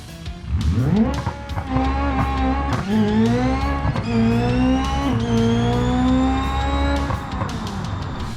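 A 200BX drag car in BeamNG makes a drag pass on a West Coast drag strip, engine screaming up through several rising gear shifts, loud and close with little else around it.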